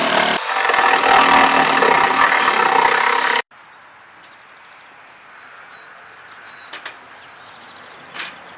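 A saw cuts through 2x4 wood boards for a propane tank cover frame, loud rasping for about three seconds before stopping abruptly, followed by quiet room noise and a few faint clicks.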